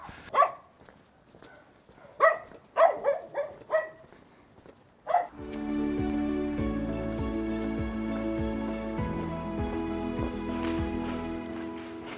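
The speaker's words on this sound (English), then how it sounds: "Just barking dogs, as it should here in Portugal" Dogs barking along a hiking trail near Mafra, Portugal: several sharp, fairly close barks in an uneven burst, then a steady wash of outdoor background noise in which more faint barking carries on.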